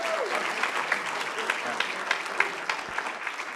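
Audience clapping at a conference forum, a steady patter of many hands heard from a distance, moderate and even throughout.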